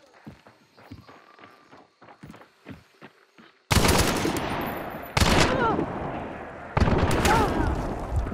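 Gunfire in the Roblox-style game Arsenal, starting with quieter scattered clicks and shots, then three loud bursts of rapid automatic fire with heavy echoing tails, with speech in the background.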